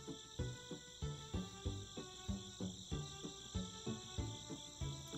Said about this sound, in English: The birds change to crickets.